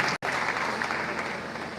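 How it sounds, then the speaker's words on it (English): Audience applause at an inter-tertiary debate competition, a dense steady wash of clapping filling the room after a brief dropout at the start, sustained and fairly loud with a faint murmur of crowd beneath. "A round of applause for him."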